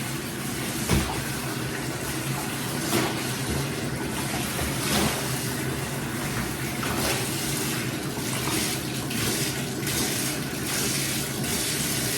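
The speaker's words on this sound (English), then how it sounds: "I'm going to slosh it around with it for a little while and get that soap out of it" A quilt sloshed around by hand in a tub of room-temperature water to rinse out soap, a steady close wash of swishing and splashing with occasional louder surges.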